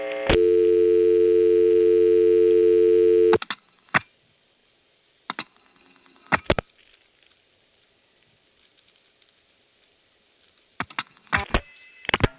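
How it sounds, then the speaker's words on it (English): Old 1973 telephone exchange sounds heard from a payphone on the 493 exchange of the Occoquan central office: a steady dial tone for about three seconds, then scattered clicks and short electromechanical switching bursts over near silence. "here's a composite demonstrating how the infamous 493 sounded from a payphone in 1973"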